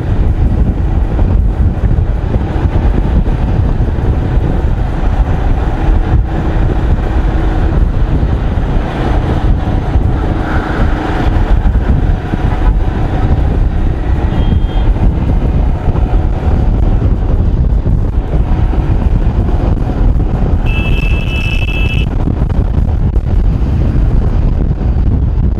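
Royal Enfield Himalayan motorcycle with BS4 engine on a long ride near Chandigarh: steady engine drone buried under loud, continuous wind roar buffeting the microphone, with no voices heard.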